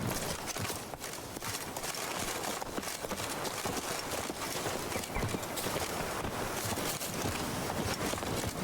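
Roach, a horse in The Witcher 3, gallops away with rapid clip-clop hoofbeats over a dense rush of wind and ambient noise, steady and fairly near throughout.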